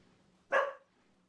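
A corgi lets out a single sharp bark, close and fairly loud, against an otherwise quiet indoor background.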